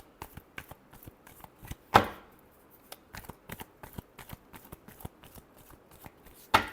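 Tarot cards shuffled by hand in a quick, steady riffle of close, crisp flicks, with two louder slaps as the deck is squared.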